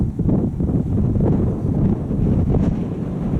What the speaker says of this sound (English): No, that's too windy.